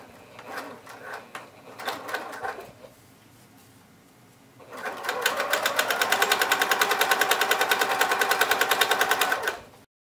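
A sewing machine top stitches a tote bag at a long stitch length, first in a few short separate bursts, then after a pause in one long, loud, evenly pulsing run that stops abruptly.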